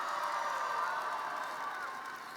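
A large crowd at a youth rally in an arena cheers and shouts in a continuous, dense roar that slowly fades slightly toward the end.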